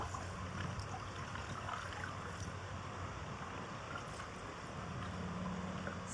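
A fast river current pours steadily past a paddler on a calm stretch of river near Long Eddy in New York's Catskills, a continuous broadband rush of moving water with no voices.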